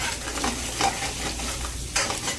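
Beaten eggs fry in a pan for a Bengali potato and eggplant egg bhaji, a close sizzle broken by several scraping stirs of a spatula, no voices.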